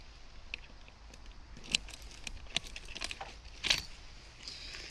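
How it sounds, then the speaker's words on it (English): Keys for a Yamaha YBR 125 motorcycle with a Yamaha top box jangle in a few light metallic bursts, clearest around the middle and near the end, fairly close and with no talking. "So I can get my keys."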